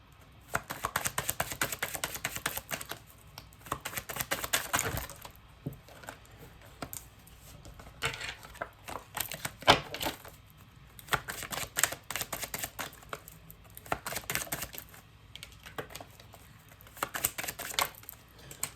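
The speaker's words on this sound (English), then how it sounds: "I barely got these cards wet and now they just don't shuffle right" Slightly water-damaged playing cards are riffled and shuffled in repeated quick bursts of crisp flapping, close and fairly quiet, with short pauses between.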